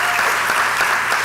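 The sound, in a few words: audience applause for a county commissioner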